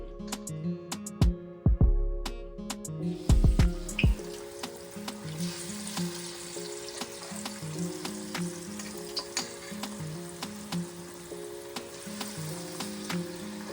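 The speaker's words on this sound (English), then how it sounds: "Now we want to start frying." Steady sizzling of akara bean fritters with onion frying in hot oil, with a few clinks of utensils at the start and continuous crackle throughout.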